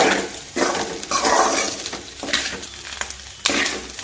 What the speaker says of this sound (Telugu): మొత్తం ఒకసారి కలిపేసుకుందాము